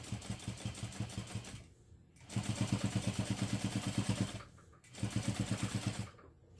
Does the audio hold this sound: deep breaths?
no